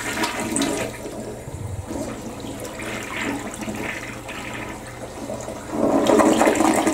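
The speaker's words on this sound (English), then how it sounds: "We'll flush it." A toilet flushes after Lime Away bowl cleaner has been left in the bowl, a steady close rush of swirling water that surges louder near the end, with no talking.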